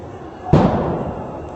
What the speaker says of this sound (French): Encore, énormément de bruits de pétards.